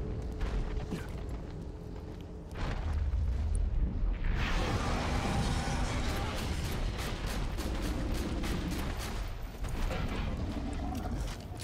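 Gunfire and blasts from the video game Borderlands 2 during a boss fight, a dense ongoing barrage of sharp shots over a loud rumbling explosion that swells partway through and carries on to the end.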